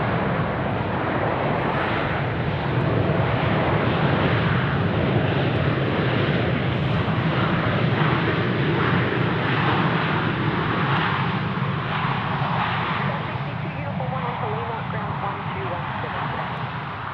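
A Qantas airliner lands at Sydney Airport, giving a loud, continuous roar of engine and rushing noise that holds steady for the whole stretch and eases slightly toward the end.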